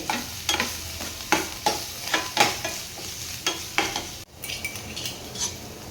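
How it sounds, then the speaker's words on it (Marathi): Finely chopped onion sautés in hot oil for a Marathi-style prawn fry, a soft sizzle broken by a spatula scraping and stirring in regular strokes against the pan, close and unaccompanied by speech. "कांदा बारीक करून घेतलेला आहे आणि कांदा ते परतून घेते"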